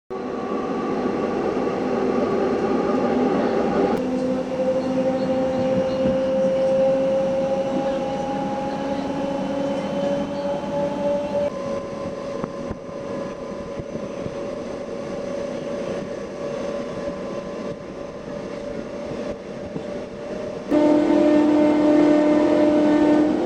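A Hindupur–Guntakal DEMU train running along the line, its diesel engine giving a steady droning hum with rising tonal whine and rail rumble, loud and continuous with a shift in pitch near the end.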